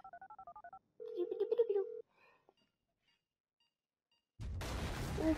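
An old phone in the video game Grand Theft Auto V plays a rapid series of dial tones, then a longer ringing tone, then a pause, before a burst of loud noise cuts in.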